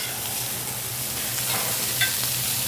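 Tofu fries in an oiled pan with a steady, close sizzle and faint scraping as it is nudged around; a small clink near the end.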